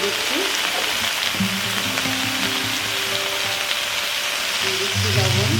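Shrimp go into a hot pan and fry with a loud, constant sizzle that stays dense and close, with a faint voice and soft tones beneath it.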